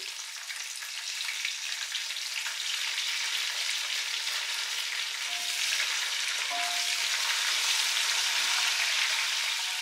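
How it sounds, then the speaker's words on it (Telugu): Onions and coriander frying in oil in a pan for Telugu-style seeraga samba mutton biryani, a steady close sizzle and crackle with a few faint stirring clinks, no voices. "ఈ ఆనియన్స్ బాగా బ్రౌన్ కలర్ వచ్చేలాగా ఫ్రై చేసుకోవాలి."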